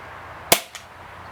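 A Kimar K 760 .177 spring piston break barrel air rifle fires a single sharp, close crack, followed a moment later by a fainter pellet impact.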